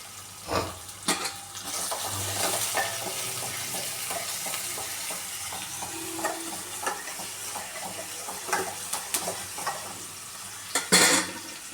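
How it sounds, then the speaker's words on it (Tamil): Onions roast in a pan with mustard seeds, cumin and dried chillies for raw banana curry, giving a continuous close sizzle broken by spatula scrapes and knocks, louder near the end. "நல்லா ரோஸ்ட் ஆகட்டும் வெங்காயம்."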